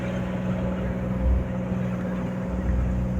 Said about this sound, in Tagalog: medyo mabilis-bilis ang bangka na ito